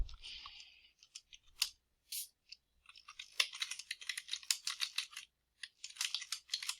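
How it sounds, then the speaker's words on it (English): Quiet, irregular clicking of computer keyboard keys, in scattered bursts and then a steadier run of rapid taps. It is close and no one speaks. "So you can see I'm typing in opening military jobs up to women"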